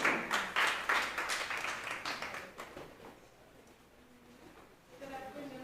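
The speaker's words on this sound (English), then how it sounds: "A round of applause, please." Audience applause at an ADA 35th anniversary proclamation ceremony: a dense burst of clapping fades out over about three seconds, leaving near silence before a voice begins speaking.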